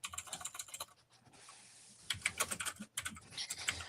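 Rapid clicking of a computer keyboard during a live online chat, bursts of keystrokes close and fairly clear with brief pauses between runs, no talking.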